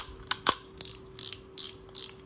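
Ratchet of a Daiwa fishing reel clicking in five short, rapid bursts spaced about half a second apart, close and crisp against a faint steady hum.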